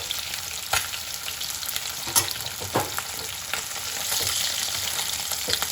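Tilapia fish frying in hot oil, a steady bright sizzle throughout with a few sharp pops and spatters, growing slightly louder toward the end with no talking.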